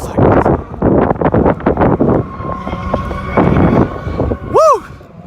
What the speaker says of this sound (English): Oh my god, it's so windy outside.